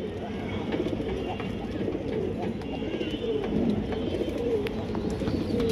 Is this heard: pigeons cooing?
yes